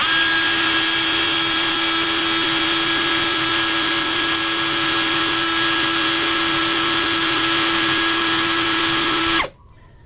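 A KAELAT cordless impact drill runs at speed 2, a steady loud high whine with a constant pitch that holds for about nine seconds, then cuts off abruptly.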